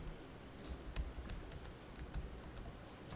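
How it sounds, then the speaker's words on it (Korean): Typing on a computer keyboard while entering accounting data, including a press of the Enter key: light, quick clicking keystrokes in an irregular rhythm, close and soft, with no talking. "엔터 치고"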